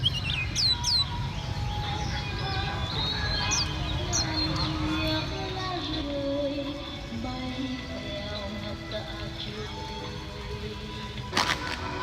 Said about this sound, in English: The locals bring their birds down every morning to socialize with other birds and to learn how to sing